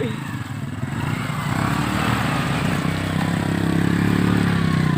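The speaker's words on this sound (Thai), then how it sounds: "ดูขนาดขนาดมอเตอร์ไซค์ยังก้นปัดเลยนะ" A motorcycle labouring up a steep rough mountain track, engine loud and close, revving continuously with rising strain and rattling, no clear voices.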